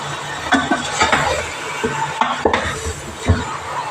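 A spoon stirs food in a cooking pot up close, making intermittent clanks and scrapes against the metal over a low kitchen background.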